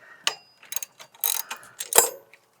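A wrench working on a bolt of a Ford F150 power steering pump that hasn't been removed in 20 years, heard as a few short metallic ratcheting clicks and scrapes in quick, uneven bursts, close and fairly loud.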